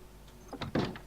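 A barn door in The Long Dark creaks and thuds open, a short wooden scrape followed by a louder knock, heard up close and alone.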